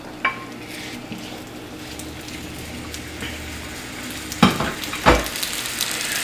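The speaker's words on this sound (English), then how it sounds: "we're going to brown our chorizo" Chorizo browning in olive oil in a cast iron skillet over medium heat, with a constant soft sizzle and a few louder scrapes and clinks of a spatula against the pan.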